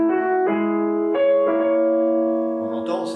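A piano plays a theme from Chopin's Ballade No. 3, a few clear sustained chords and notes struck one after another at moderate loudness, ringing alone without speech.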